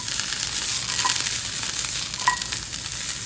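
Leftover vegetables sizzle loudly in a frying pan as they are tossed, a dense steady hiss with a couple of faint metallic clinks, no voices.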